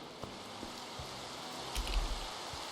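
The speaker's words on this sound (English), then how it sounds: "That rain is pretty heavy today." Heavy rain falls in the video game Minecraft, played with the Omnifactory modpack: a steady, quiet hiss of rainfall with a few faint low taps, and no talking.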